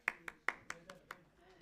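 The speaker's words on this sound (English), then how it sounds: "Please continue the round of applause" An audience at a university academic event claps in a short, sparse round of applause, with a handful of distinct hand claps close together.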